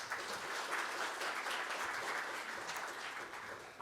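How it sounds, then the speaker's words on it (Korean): Sustained audience applause at a Korean budget debate forum as a speaker is welcomed, a dense, even wash of clapping from a room full of people that continues steadily for nearly four seconds. "큰 박수로 모시겠습니다."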